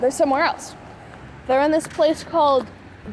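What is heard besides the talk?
No everyday noise stands out behind the speech.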